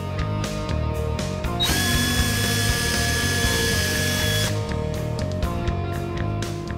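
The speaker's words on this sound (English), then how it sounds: "And we're going to drill a hole." A power drill bores a hole in a bracket on a 1965-1973 Mustang for a gas cap lock. It whirs loudly and steadily for about three seconds, with clicks and ratcheting handling noises before and after, close up.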